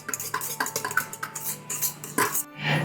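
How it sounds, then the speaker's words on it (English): Quick whisking of chocolate yule log batter in a bowl, a run of rapid metal-on-bowl clicks and scrapes, close and fairly loud with no talk. "Now we're just going to give that a quick whisk."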